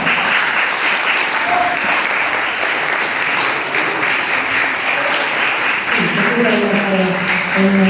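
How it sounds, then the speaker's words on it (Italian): Dense, steady applause from an award ceremony audience at a local sports-and-integration competition in Melito, continuing evenly for the whole stretch with faint voices or music tones rising through it near the end. "fate un grosso applauso anche alla gente di polizia locale"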